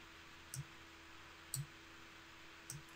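Three crisp mouse right-clicks at a computer during SOLIDWORKS CAD work, spaced about a second apart, each a short sharp tick over a quiet background hum.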